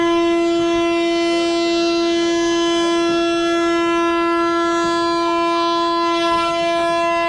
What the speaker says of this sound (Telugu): ట్రైన్ అయితే మూవ్ అయిపోతుంది